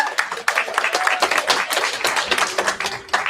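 Audience applause at a candidate forum for one of the seated candidates, a brisk run of many individual claps in a lively, uneven rhythm, close and moderately loud, with no talking over it.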